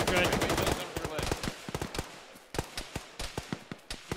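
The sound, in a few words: gunfire in a military video game (ShackTac)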